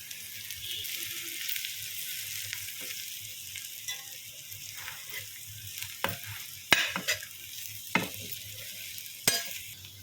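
Brinjal stuffing with turmeric, sesame powder and coriander sizzles softly in a pan while a spoon stirs it, the steady fry broken by scrapes and sharp clinks of metal against the pan.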